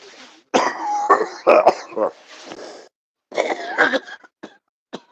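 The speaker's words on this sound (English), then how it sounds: "So I'm going through a lot of coughing, a lot of tissues." Several harsh, throaty coughs from a person with chest congestion come in two bursts separated by a short pause, close and loud, with raspy throat clearing, in a garage.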